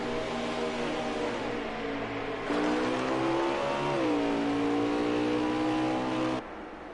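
Race car engines at Road America in a PS4 racing game, a pack of cars droning steadily with rising and shifting engine pitch, several motors layered together, continuous and fairly even in loudness.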